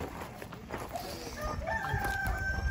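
A rooster lets out a single crow in the last second or so, rising over a steady bed of rustling background noise.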